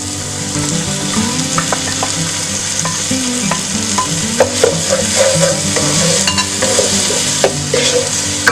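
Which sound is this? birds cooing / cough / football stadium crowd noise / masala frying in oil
masala frying in oil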